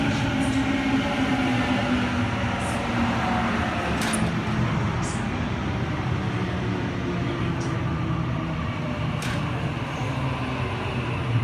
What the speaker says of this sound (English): A31 now departing platform number 2, Leppington Service.